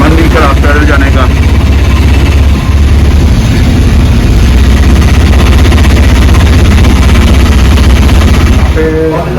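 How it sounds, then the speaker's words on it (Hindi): A scooter engine runs steadily and loudly close by, a continuous low throbbing drone from start to finish with brief voices near the beginning and end. "और अभी स्कूटर पर बैठ गया हूँ"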